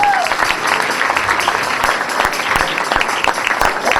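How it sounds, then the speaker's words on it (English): An audience applauds for a Muslim business group at a comedy event, with dense, sustained clapping and some voices mixed in throughout. "Come on, give them a big round of applause."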